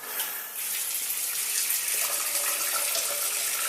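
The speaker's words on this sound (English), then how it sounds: "Water comes off the base" Water pours from a spa bathtub faucet in a remodeled bathroom, a steady hissing gush that continues without pause and without voices.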